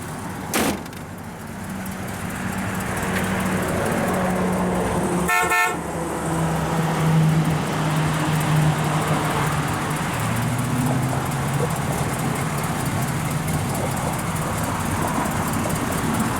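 A 1971 Oldsmobile Cutlass S with a dual Flowmaster exhaust runs at a steady, fairly loud idle close by, with a short honk-like burst partway through.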